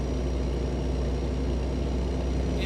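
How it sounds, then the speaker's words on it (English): A stock truck engine in a trucking video game drones steadily at cruising speed, a deep throaty rumble with a thin constant turbine whine riding above it, loud and unbroken throughout. "It sounds good and throaty, and it's got a good turbine whine."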